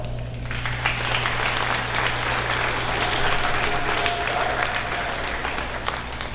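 An audience claps steadily at a county 4-H awards ceremony, a sustained, fairly even burst of applause from a crowd indoors that fades slightly toward the end.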